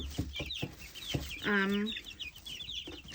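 Backyard chickens, big and small, cluck softly nearby in a series of short clucks, with one longer drawn-out call in the middle.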